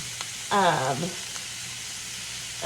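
Sausage and onion frying in a skillet make a continuous close sizzle, with a short voiced sound near the start and a few faint clicks.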